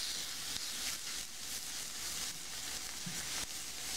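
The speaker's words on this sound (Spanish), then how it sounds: "Yo aquí ya tengo una planchita. Yo voy a poner a asar las pechugas." Chicken breasts searing on a small griddle hiss and sizzle steadily, close up and without pause, with faint crackles throughout and no talking.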